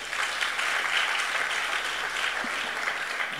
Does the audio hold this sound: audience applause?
yes